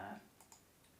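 Soft keyboard typing while entering an equation into an online graphing calculator: a couple of faint, quick clicks, low in level and close by.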